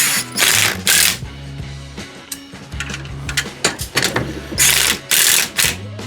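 Ratchet driving a coil spring compressor, worked back and forth in loud close bursts of quick clicking, separated by brief pauses and a low mechanical hum.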